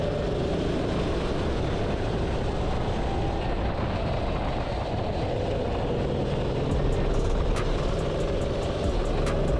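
A race car on the Abu Dhabi F1 circuit warms its tires and brakes while learning the track, making a loud, steady engine and road roar that holds throughout with no talk.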